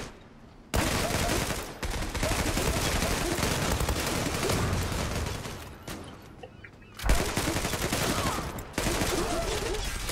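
Dense automatic gunfire rattles in a video game in long, loud, sustained bursts separated by brief pauses, with a sharp crack partway through and talk faintly mixed in.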